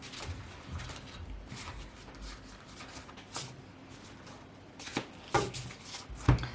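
Tarot cards are handled quietly during a reading, giving soft, scattered shuffles and light taps, faint and close, with a few sharper knocks toward the end.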